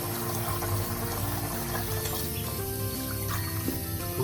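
Cold water running and splashing steadily as a whole poached chicken is plunged into it, a dense continuous rush with a faint humming tone underneath.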